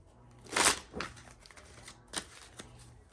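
Tarot cards being shuffled in a few quick riffling bursts, close and crisp, separated by short quiet gaps.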